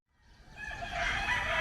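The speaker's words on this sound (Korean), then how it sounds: "필리핀의 여명이 밝아오고 닭소리와 함께 하루를 시작한다." A rooster crows at dawn in the Philippines, one loud, close call that rises from silence and holds steady to the end.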